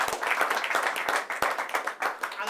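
An audience at a pub event in the House of Commons clapping for publicans, fairly close, brisk irregular claps from a modest crowd with some voices mixed in.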